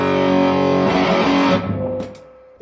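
An electric guitar runs through a Liverpool-made muff-style fuzz pedal, a thick, saturated distorted chord that sustains loudly and then decays, with a few faint string and handling noises at the end.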